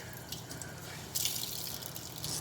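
A makeup sponge is rinsed under a running tap, with a soft steady trickle and drips that swell into a brighter splashing flow partway through, close and quiet with no talking.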